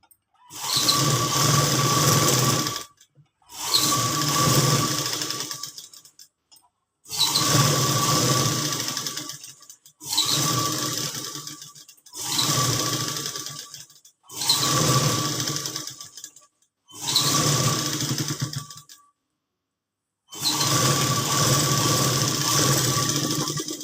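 A sewing machine stitches cloth in eight bursts of rapid whirring, each lasting a few seconds, separated by short silent pauses, loud and close.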